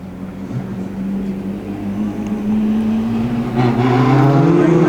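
Race cars launching from the start of a Collie Championship race, engine notes climbing steadily in pitch and loudness as the field pulls away, with an announcer's voice faintly present.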